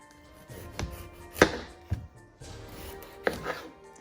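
Leftover carving pumpkin is cut into small pieces with a knife, a few sharp chops on a board spaced irregularly over soft rustling, close and clear with no talk.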